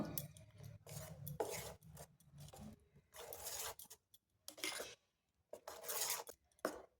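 Rice batter mixed with fried white sesame is stirred vigorously in a bowl, giving quiet, intermittent scraping and squelching strokes in irregular bursts with short pauses between them.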